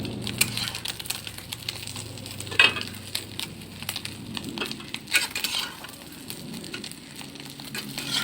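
Eggs frying in oil in a pan, a close, steady crackling sizzle with scattered pops and a brief scrape of a utensil partway through.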